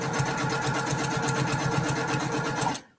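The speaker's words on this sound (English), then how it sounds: "This is the Brother PQ 1500." Brother PQ1500 sewing machine running at a steady fast rhythm, close and continuous for about three seconds before it stops abruptly.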